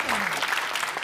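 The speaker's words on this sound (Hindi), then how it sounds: "इस बात की ताली बजाओ" A live audience at a comic poetry recital bursts into dense clapping, a brief loud wash of applause with a voice sliding in at the start.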